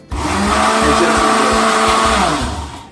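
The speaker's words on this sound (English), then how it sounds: "if you're blending it and it gets jammed in the blender" A blender whirs loudly and continuously, its motor pitch wavering as frozen fruit chunks churn for a smoothie, then winding down at the end.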